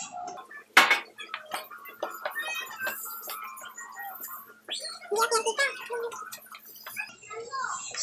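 Cassava suman ingredients stirred with cheese and evaporated milk in a pot, a utensil giving close, irregular clinks, taps and scrapes with one sharp knock early on, the scraping busier toward the end.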